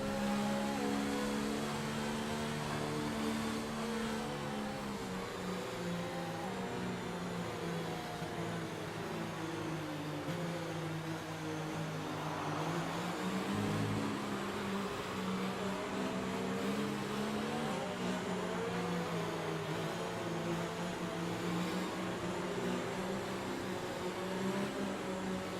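In an F1 video game on PS4 at the Spanish circuit, a field of race cars runs behind the safety car. Engines hum and whine continuously, their pitches rising and falling, with no talk.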